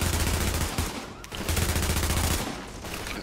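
Rapid automatic gunfire in The Division rattles in two sustained bursts separated by a brief pause, loud and dense.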